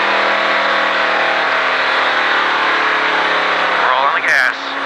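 A race car at the Richard Petty Driving Experience at Disney roars steadily up close as it accelerates on the track, with a constant loud engine drone. A voice talks over it and the engine dips briefly near the end.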